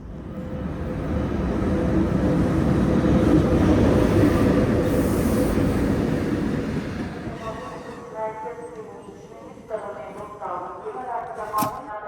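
A passenger train pulling into a station in wartime Ukraine, a loud, rising rumble of wheels and cars rolling close by that eases off into squeals and clanks as it slows, with voices talking over the later part.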